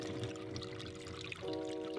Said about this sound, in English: you can go ahead and pour the chemicals back into the bottle because the stuff is reusable